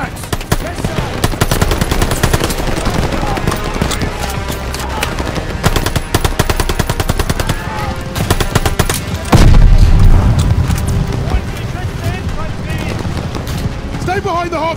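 Sustained machine gun fire in the Call of Duty: Vanguard video game, dense rapid bursts running throughout amid explosions and battle noise, with shouted voices and a louder blast near the middle.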